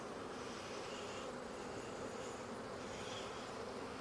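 Honeybees drone steadily around a brood frame holding larvae and capped brood while a beekeeper checks the hive for the queen, a dense, even buzz that stays level throughout with no talking.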